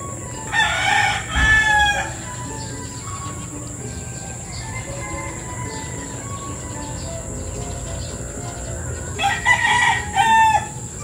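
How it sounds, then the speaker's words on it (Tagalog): Roosters crow at dawn over farmland beside rice paddies near the sea, two loud crows standing out near the start and end over a steady hum of insects and crickets, with other fowl clucking faintly in between. "tilaukan po ang mga manok."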